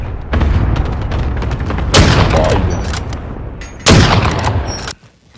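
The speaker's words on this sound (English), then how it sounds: "Allied cluster strike inbound" Cluster strike explosions in a shooter game, a sustained crackle of rapid blasts with two heavier bursts hitting midway and near the end before cutting to quiet, loud and close.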